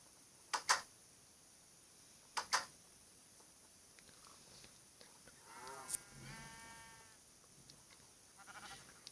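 A few wavering sheep bleats from Minecraft sound in the middle, with sharp clicks and soft game tones around them.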